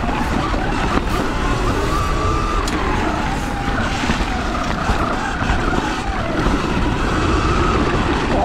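Sur-ron X electric motorbike speeding downhill on a mountain trail, a steady loud rush of wind and tyre roar with rattling and skidding bursts throughout, no voices.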